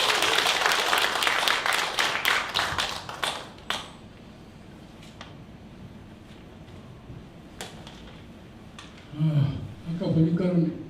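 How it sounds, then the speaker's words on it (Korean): A crowd at the 20th-anniversary ceremony of Namdong Cultural Center in Incheon gives a burst of clapping that tapers off within a few seconds, followed by near quiet with scattered taps, then someone speaks. "큰 박수 부탁드립니다"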